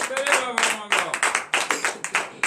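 A congregation clapping in acclamation during a morning prayer service, a run of quick, sharp, fairly close hand claps with voices mixed in.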